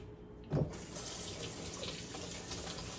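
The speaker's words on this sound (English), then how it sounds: "So we're just gonna wash our hands off just to get the excess dough off" Hands rinsed under a running kitchen tap to clear off sticky sourdough, a steady close water stream that splashes louder for a moment near the start and then flows evenly.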